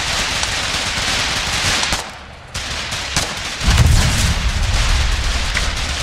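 Tank guns in a World of Tanks-style game: loud, heavy, roaring gunfire and rumbling blasts that drop briefly to a quieter lull, then surge back with deep, booming weight.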